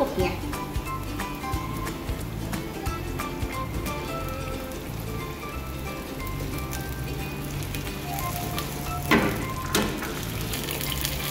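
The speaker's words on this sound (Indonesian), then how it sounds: "sekarang kita akan menambahkan air secukupnya" Water poured into a pan of wilted sautéed onions, giving a steady close hiss and crackling sizzle throughout with a brief louder splash near the end, while someone talks over it.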